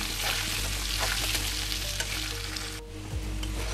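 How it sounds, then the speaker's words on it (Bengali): Potatoes sizzle loudly and steadily in hot mustard oil in a kadai, a dense crackling hiss with occasional scraping as they are stirred. "কড়াইতে সরষের তেল গরম করে প্রথমে আলুগুলো ভেজে নেব।"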